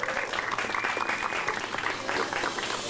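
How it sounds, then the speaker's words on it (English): A short, faint round of crowd applause at a pro wrestling show, continuous clapping heard from some distance for a few seconds. "So let's have one more big round of applause for Cliff."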